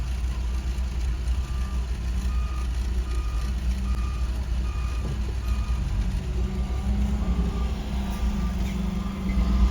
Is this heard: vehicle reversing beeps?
yes